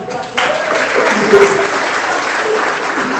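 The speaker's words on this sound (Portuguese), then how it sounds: "Dê um aplauso ao Senhor Jesus." A church congregation applauds during a sermon, a steady, dense wash of clapping from a crowd that swells briefly and then holds.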